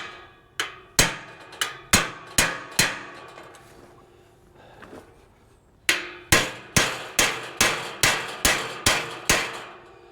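A hammer striking metal while steel gates are built, ringing in two runs of evenly spaced, loud, close blows with a short quiet gap between, each hit clanging and decaying.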